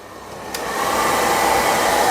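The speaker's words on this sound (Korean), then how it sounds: "그 다음 드라이기 켜봐." A hair dryer switches on at full setting and runs with a steady, loud airy whir and motor hum, rising quickly then holding constant.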